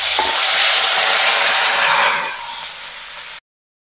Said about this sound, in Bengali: এখন আমি কড়াইয়ে দিয়ে নেব পেঁয়াজ বাটা, মরিচ বাটা, রসুন বাটা